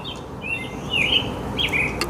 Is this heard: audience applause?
no